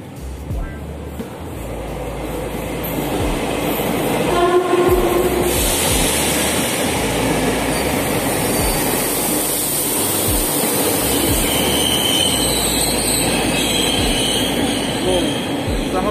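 A train at the BNI City airport rail station in Jakarta, a continuous loud rumble with rhythmic wheel clatter and a rising hiss as it passes close by, with background voices faintly underneath.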